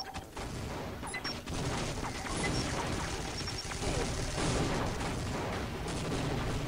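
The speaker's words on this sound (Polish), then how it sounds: "Niby wybuch" A grenade explosion in the video game Team Fortress Classic, heard as a loud, dense, sustained roar of blast and gunfire-like noise that barely lets up, with no clear pause throughout.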